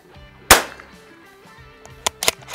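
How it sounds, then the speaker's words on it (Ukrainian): Tactical Solutions survival rifle fired outdoors at a can on a sandy berm: one loud, sharp shot cracks early, followed later by a few quicker, fainter sharp clicks, with no voices. "Перший постріл, результату не бачу."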